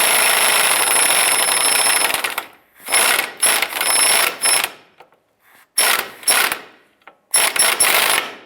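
A ratchet wrench tightening sway bar link nuts on a Honda Civic: bursts of rapid, close clicking come in short repeated strokes with brief pauses between them.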